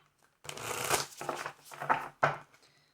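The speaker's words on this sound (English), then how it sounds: "2 more shuffles for my Librans" Tarot cards shuffled by hand in a few quick, riffling bursts with short pauses between them, close and clear with no talking.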